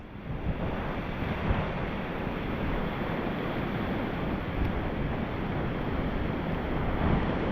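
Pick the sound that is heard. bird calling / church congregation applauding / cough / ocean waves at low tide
ocean waves at low tide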